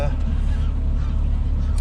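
Canada geese honk a few times at a distance over steady outdoor rumble, heard from aboard a Shetland 535 boat.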